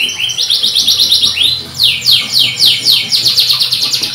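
A canary sings in quick repeated trills and chirping phrases, loud and close, with rapid rhythmic bursts continuing throughout and faint voices in the background.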